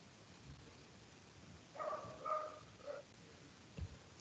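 A small dog gives a few short barks and yips in a quiet room, a brief cluster of faint, distant-sounding calls with no talking.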